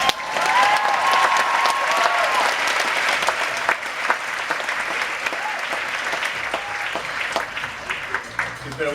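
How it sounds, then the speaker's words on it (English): An audience breaks into sustained applause for a gymnast performing on aerial silks, loud at first and then thinning, with a voice speaking over part of the clapping. "I can't breathe, so if you're going to applaud, you better do it now."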